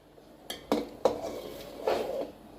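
Moong dal khichdi stirred in a pot just uncovered after boiling, a few distinct metallic scrapes and clinks of a spoon against the pot, close and clear with quiet pauses between strokes.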